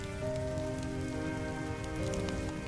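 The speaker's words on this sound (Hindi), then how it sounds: "तेज बारिश में बीच सड़क पर भीग रहा था" Heavy rain pours steadily in a cartoon animation, a dense continuous hiss of drops hitting surfaces with a faint tonal hum underneath and no talking.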